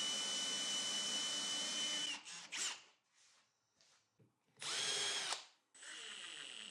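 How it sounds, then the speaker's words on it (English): A power drill with a 35mm Forstner bit whirs loudly up close in several bursts into wood, pausing briefly between them before boring again. "drill out a 35mm hole with a Forstner bit"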